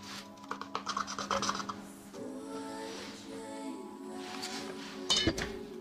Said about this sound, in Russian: подмешиваем соду в муку и перемешиваем муку с жидким тестом